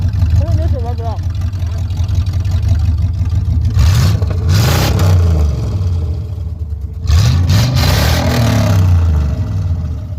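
The engine of an old GMC OBS pickup with a suspected blown head gasket revs in two loud bursts over a rough idle, close by, while people talk around it.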